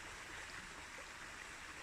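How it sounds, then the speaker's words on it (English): Soft, steady rush of a stream spilling over rocks in a small waterfall on a trail near San Juan del Sur, a faint, continuous wash of water with no voices. "little overflow of the rocks there. It's a mini waterfall."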